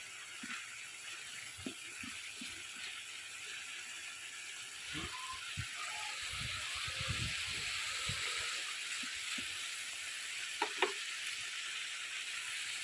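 Shrimp from a canal cooking with pointed gourd and potato in oil, giving a steady low sizzle with occasional soft clinks and stirring scrapes, fairly quiet and continuous throughout.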